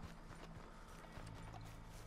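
Horse hooves clip-clop steadily in Red Dead Redemption 2, a continuous galloping rhythm over the game's ambient background, with no voices.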